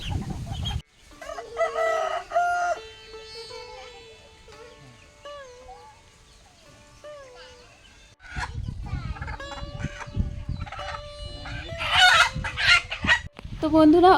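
A native rooster being caught clucks and squawks in agitated bursts at close range, with scuffling and voices talking around it, growing louder toward the end.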